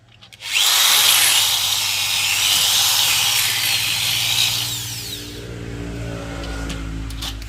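A power drill starts up and grinds into the very hard steel of a rat trap cage, a loud, harsh, close whine held for several seconds before the bit eases off and the motor winds down.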